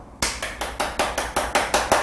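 During a Korean public-speaking talk, the audience claps in unison, about nine sharp, evenly spaced claps in a quick steady rhythm, close and loud.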